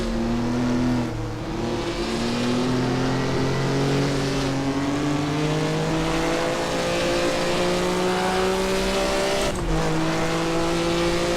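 Maserati 250F racing engine in the Assetto Corsa game at Monza, revving high toward the red line with rising harmonic whine through continuous gear pulls, loud and close throughout, alone without talk.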